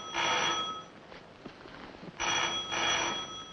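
A telephone rings in two short bursts of bright, trilling bell tone with a quiet gap between them, close and clear, with no talk over it.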